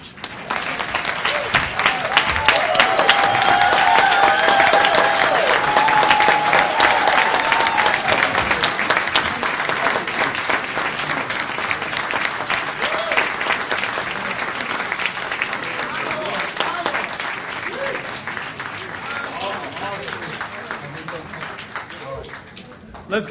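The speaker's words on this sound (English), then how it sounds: "Let's give another round of applause for our speaker for the hour, Pastor Marlon Harris" A crowd at a county Martin Luther King Jr. celebration gives a long, loud ovation for a pastor who has just finished speaking, dense clapping swelling early and then slowly thinning, with scattered voices mixed in.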